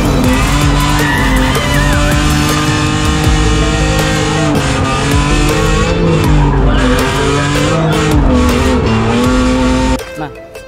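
A BMW 3 Series E46 drift car with a fierce engine, M3 E36 transmission and M3 clutch, its tyres skidding while the engine roars. The sound is loud and continuous at close range and cuts off sharply just before the end.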